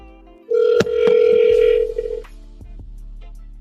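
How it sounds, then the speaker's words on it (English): A telephone tone sounds as a call is placed, a loud steady electronic tone lasting over a second with clicks at its start, then fading into quiet line noise. "I'm actually gonna make a phone call."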